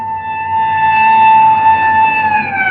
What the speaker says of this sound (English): Look, there's a police car stopping in front of the house.